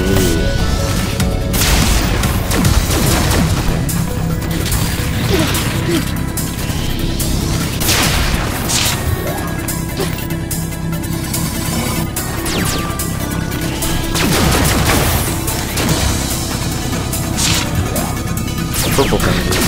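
Charged shots and impacts in the video game Cloudbuilt, repeated crashing bursts and whooshes over a loud game soundtrack, with sharp hits recurring every few seconds throughout.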